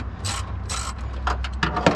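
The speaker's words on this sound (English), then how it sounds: "I'm gonna start taking these screws out." A hand ratchet backs out 8mm screws on a Nissan Silvia during a Walbro 255 fuel pump install, giving several short bursts of close, rapid metallic clicking with brief pauses between them.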